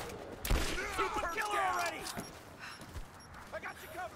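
Suppressing gunfire in a video game: a couple of sharp shots and scattered bursts sound through a busy combat mix, mostly under voices talking over the action.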